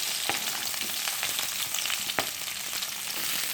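Chopped onions hit hot oil with fennel seeds in a pan for an Indian egg curry, giving a continuous loud frying hiss with a few sharp crackles and pops, no voices.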